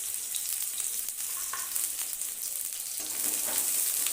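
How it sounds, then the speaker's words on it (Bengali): Bay leaf and chopped onion frying in hot mustard oil in a kadai, a continuous bright sizzle with occasional spatters and stirring, no talk. "দিয়ে দিলাম কড়াইয়ে সরষের তেল, ফোড়নে দেবো তেজপাতা, তারপর দিয়ে দেবো কেটে রাখা পেঁয়াজ"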